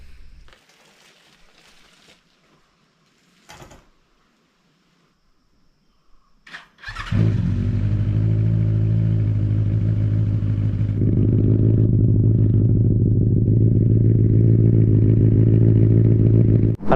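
Motorcycle warming up in the morning: a few faint clicks and clatters, then the engine catches and settles into a loud, steady idle that runs on unbroken.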